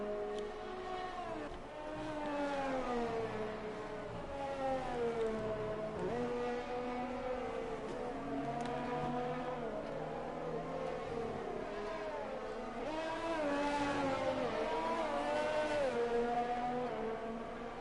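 Video-game Formula 1 race car on a qualifying lap at the Dutch Grand Prix, its engine screaming steadily at high revs with shifting pitch sweeps through gear changes, loud and continuous with no talk.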